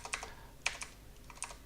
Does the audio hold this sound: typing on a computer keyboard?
yes